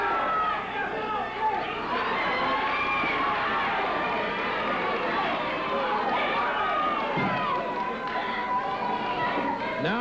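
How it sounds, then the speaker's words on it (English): Arena crowd at a 1983 pro wrestling match cheers and chatters steadily, a dense wall of voices and whistles that never lets up, with shouts rising here and there. "the fans cheering for him, but they are cheering him on as he comes back with forearm smashes to the Wolfman"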